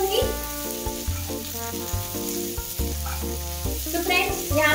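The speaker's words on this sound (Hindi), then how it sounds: "यहाँ पर मैंने आलू को जीरे के साथ अच्छे से मिक्स कर दिया है" Potatoes with cumin sizzle steadily while being stirred and fried in a pan for a fasting dish. The frying hiss continues throughout, under a tonal musical background.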